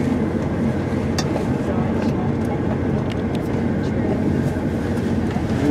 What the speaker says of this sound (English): We are now running between Shifnal and Telford Central.